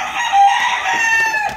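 A rooster crows loudly and close by, one sustained, wavering call that lasts the whole moment.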